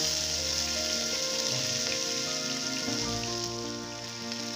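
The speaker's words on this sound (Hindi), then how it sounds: "तो हमारा तेल गरम हो चुका है, अब हम उसमें एक चम्मच शाही जीरा डाल देंगे अपना।" Cumin seeds and green chilies hitting hot oil for a spicy green peas dish, a steady dense hiss and crackle of frying that holds evenly throughout with no talk.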